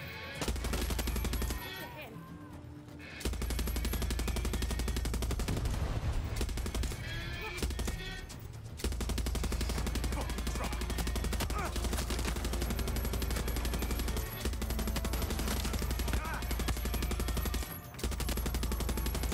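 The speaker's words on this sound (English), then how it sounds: "Use mounted gun." Mounted gun firing in the video game Far Cry 6, loud sustained rapid automatic bursts with brief pauses, mixed with game effects and some voices.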